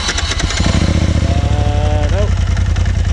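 A side-by-side UTV engine cranks and catches in winter on a snowy Canadian trail, settling into a loud, close, steady idle with a low rumble and some whine; people talk nearby.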